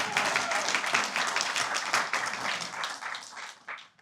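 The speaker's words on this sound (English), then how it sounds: "I'll take an applause on that." Diners at a Catholic university vision dinner break into applause, a steady wash of many clapping hands that gradually tapers off over a few seconds.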